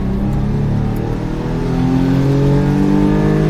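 Engine of a Mitsubishi Bravo micro van revving hard and steadily climbing in pitch, loud and close with a rich harmonic drone and no talking.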